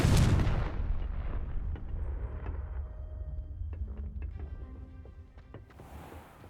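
Confringo explosive spell cast in the Hogwarts Legacy video game: a loud close blast at the start that rolls off into a long fading rumble, followed by faint scattered magical chimes and tones.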